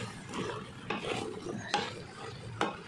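Potatoes being stirred in a cooking pan, with a few scraping strokes of the spoon over a low hiss of frying, heard close up with no talk.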